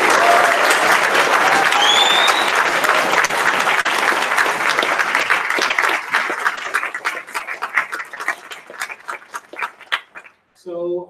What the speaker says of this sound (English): let's give a round of applause to the conference volunteers